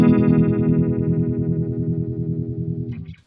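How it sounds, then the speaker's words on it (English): Electric guitar through an MXR Univibe pedal at maximum speed: one loud strummed chord with a fast, even throbbing pulse that slowly decays and stops abruptly. "And the Univibe sounds like this"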